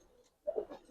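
A Giribaz pigeon in a loft gives a short, soft coo, faint and brief against a quiet background.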